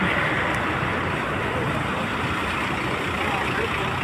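Road traffic noise of vehicles jammed on a road, a steady broadband rumble of trucks, cars and idling engines running throughout at moderate level, with no talk.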